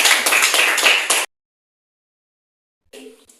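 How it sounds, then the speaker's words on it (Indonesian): A classroom of students claps for a group that has just answered, a short burst of loud, close applause that stops abruptly, followed after a pause by faint shuffling. "Tepuk tangan dulu untuk kelompok yang telah memberikan jawaban."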